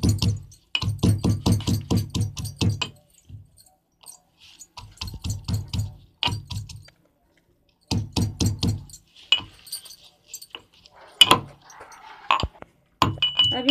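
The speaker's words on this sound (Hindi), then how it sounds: "अब इनको हम थोड़ा कूट लेते" Garlic cloves and green chilies pounded by hand for a tomato soup, giving bursts of rhythmic, close knocks and clinks, pausing between rounds, alone without talk.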